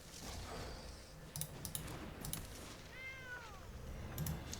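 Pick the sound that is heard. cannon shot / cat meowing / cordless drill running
cat meowing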